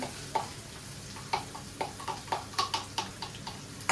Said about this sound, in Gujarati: ઓનિયનને આપણે હલાવતા રહીશું આવી રીતના.